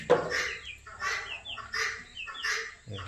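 Sick chickens in a poultry shed give repeated soft clucks and calls, about four evenly spaced bursts, close and fairly clear against a quiet background.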